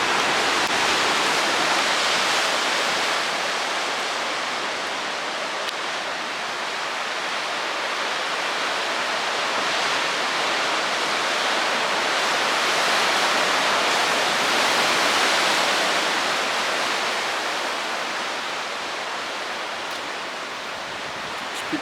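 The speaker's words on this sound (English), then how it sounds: "I just thought I'd stop here because the waves are quite magnificent" Big ocean waves crash continuously against the coast near Land's End, a loud, broad roar of surf that swells and eases in slow surges, with no voices.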